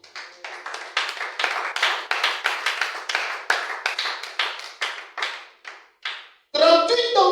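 A church congregation claps in quick, steady rhythm to acclaim Jesus during a sermon, with dense hand claps filling the room before a brighter burst of voices or music joins near the end.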